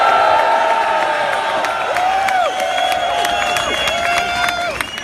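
Rally crowd at Queen's Park cheering and clapping in a dense, continuous roar, loud and close, with whistles and shouts rising over sustained applause throughout.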